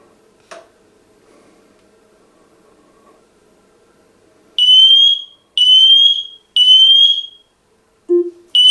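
Three loud, piercing alarm beeps sound in an even row, followed by a short electronic tone, with near silence before them, from a smart smoke detector.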